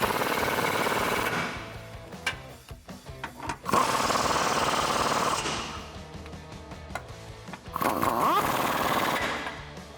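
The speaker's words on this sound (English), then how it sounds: "So now with our 18 millimeter socket, we can tighten up our body bolts." Power impact wrench with an 18 mm socket tightening body bolts on a Jeep Wrangler JL 4-door, three loud rattling bursts separated by clanks of the tool being repositioned, all close and without talk.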